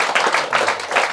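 An audience at a Buddhist dharma talk breaks into clapping, a close, loud burst of steady applause with no voices.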